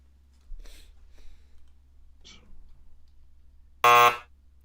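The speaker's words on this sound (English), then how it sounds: "Steven, can you give me a test buzz?" One loud, harsh electronic buzz from a quiz buzzer test, lasting under half a second, preceded by a few faint clicks in a quiet room.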